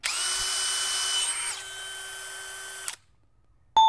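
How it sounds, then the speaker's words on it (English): A hammer drill, a Bosch bi-turbo or DeWalt, whines steadily for about three seconds, its pitch shifting partway through, then stops; a brief sharp beep follows after a short silence. "We're going to start with the new Bosch bi-turbo hammer drill and the DEWALT hammer drill."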